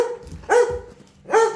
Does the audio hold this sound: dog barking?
yes